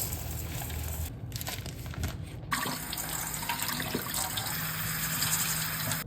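Water runs steadily from a tap into a pan for cooking rice, a continuous close splashing gush with a short pause and a shift in tone partway through.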